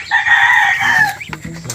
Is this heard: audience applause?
no